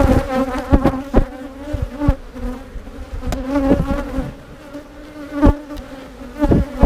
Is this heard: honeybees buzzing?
yes